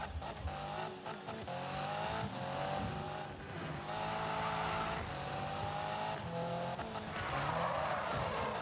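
A car drifts in the 2015 Need for Speed racing game, with a loud, sustained tire squeal sliding in pitch over a steady engine drone, continuing through the whole stretch without pause.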